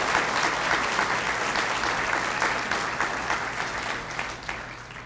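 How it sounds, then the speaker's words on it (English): A crowd applauds at a fire department awards ceremony, dense and steady clapping from a large audience that holds evenly for several seconds before easing slightly. "a round of applause for all that we recently had on stage"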